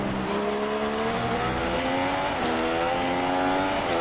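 Formula 1 car from the F1 2016 racing game at the Australian round, its high engine note steadily rising and shifting through gears alongside faint tire squeal, loud and continuous throughout.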